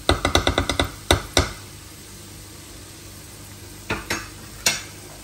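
Tomato paste frying in a pan is stirred, giving a run of quick scraping strokes at first, then a low steady sizzle with occasional further scrapes, close and fairly loud, with no talking.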